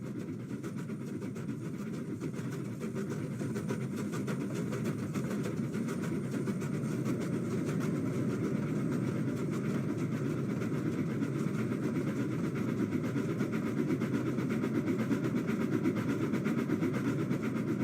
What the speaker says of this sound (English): The train went faster and faster.